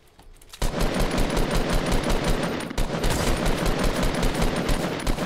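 Gunfire in the Fortnite video game: a sustained run of rapid, evenly spaced shots that starts abruptly after a brief quiet moment and stays loud and close throughout.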